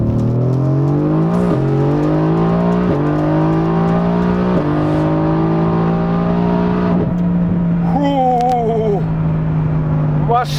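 A 1300+ hp Mercedes-AMG GT R with methanol injection accelerates hard through successive gears, its loud engine note rising and dropping at each shift, close and continuous, with a voice briefly exclaiming near the end.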